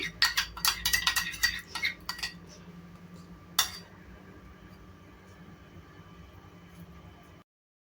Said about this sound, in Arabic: هنا بعد ما قرصت العجينه ديالتي مزيان كنتكها بفوشيطه، كندهن العجينه بالصلصه اللي حضرنا